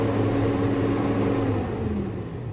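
An Isuzu 6WF1 CRDi diesel truck engine, just repaired after running low on power, holds a steady, loud, close droning rumble that eases slightly near the end.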